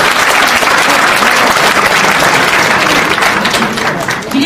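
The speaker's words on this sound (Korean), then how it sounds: "수고하시는 선거관리위원회 감사의 박수를 부탁드립니다" A crowd at a Democratic United Party leadership primary applauds the central election management committee, a loud, dense, sustained round of clapping filling the hall, easing slightly near the end.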